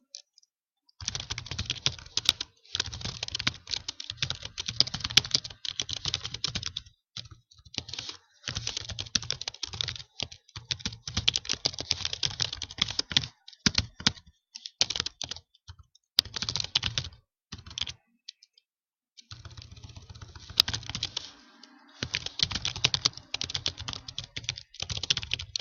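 Rapid clattering keystrokes on a computer keyboard come in long, close bursts broken by short pauses, with no talking.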